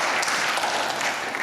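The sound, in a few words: conference audience applause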